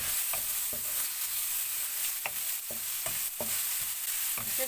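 Onions fry in hot oil with salt in a pan, giving a steady sizzle close by, broken by regular scraping strokes of a stirring spoon roughly every half second, with no voices.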